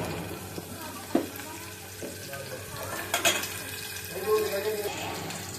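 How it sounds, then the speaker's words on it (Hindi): Onions frying in a pan give a faint steady sizzle, broken by spoon clinks and stirring scrapes against the pan, with a brief louder rustle toward the end. "प्याज फ्राई होते"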